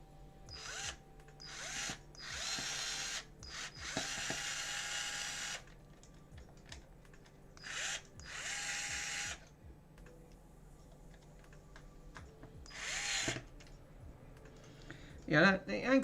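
A power screwdriver drives screws into an Xbox casing in several short, close whirring bursts with pauses between them, and a few clicks and rattles at the end.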